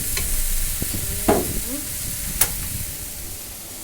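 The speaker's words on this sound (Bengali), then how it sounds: "এই যে একদম ভাজা করেছি মাছ দিয়ে" Steady sizzling of fish frying in a hot pan, with a couple of sharp clicks and a spatula scrape partway through.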